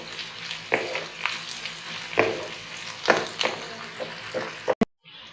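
Onions sizzle and fry in a pan for a chicken and potato dish with bell pepper, a soft crackling bed with several louder stirring scrapes, close up and without talk, ending in a sharp clatter.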